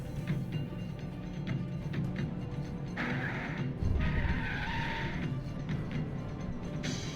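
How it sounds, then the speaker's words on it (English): Car tires skid and screech from a Japanese drifting ad playing inside a video game, a sustained rough squeal that swells and fades over several seconds over a steady engine-like rumble. "It's a Japanese drifting ad."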